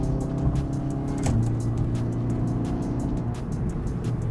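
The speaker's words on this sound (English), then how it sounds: "So here we'll show an example of flat shifting. So we literally hold our foot flat on the floor." A road car fitted with a Quaife sequential gearbox, accelerating hard with the throttle held flat. The engine drone climbs at high revs, dips sharply at a quick flat shift, then pulls strongly again, heard from inside the car with no talk.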